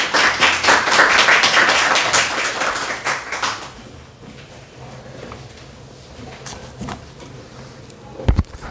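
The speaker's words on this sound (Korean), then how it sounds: "우리 박수로 환영하겠습니다." A church congregation claps to welcome a speaker, strong rapid applause for about three seconds that quickly fades into a quiet room with scattered taps, shuffles and a sharp knock near the end.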